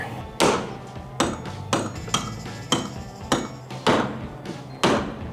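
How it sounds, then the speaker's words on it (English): A big hammer repeatedly strikes the top of a sailboat's chain plate, giving seven sharp metallic blows spaced about a second apart, loud and close, with a faint ringing after each. "hit the top of the chain plate with the biggest hammer that I can get my hands on"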